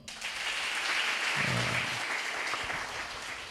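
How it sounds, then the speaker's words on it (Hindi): A crowd at a church gathering claps together in a short burst of dense applause lasting a few seconds, fairly faint, fading slightly at the end. "ऐसे बजाते हैं ताली, जरा एक बार बजाओ।"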